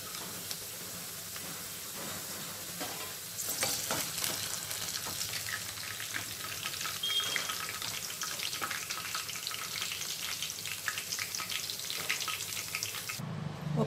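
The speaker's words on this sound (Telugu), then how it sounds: "ఈ విధంగా కార్న్స్ అన్నీ ఫ్రై చేసేసాను" Corn kernels frying in hot oil, a continuous crackling sizzle that swells louder partway through and stays steady, with no voices over it.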